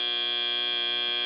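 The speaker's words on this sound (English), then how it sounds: "As the buzzer sounds" A loud, steady electronic buzzer blares in one unbroken tone at a robotics competition match, with no voices over it.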